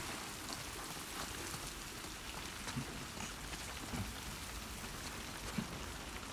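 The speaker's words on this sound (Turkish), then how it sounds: "Yine yağmur." Steady rain falls in the video game The Last of Us Part II, a continuous hiss of drops on surfaces with a few brief patters standing out, no voices over it.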